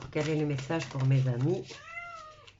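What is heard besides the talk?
tomcat meowing because it wants to go out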